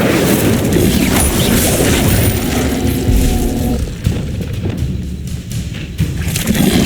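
The Incendio fire spell goes off in Hogwarts Legacy as a loud, sustained roaring burst with heavy thuds mid-combat, easing into a rougher crackle toward the end.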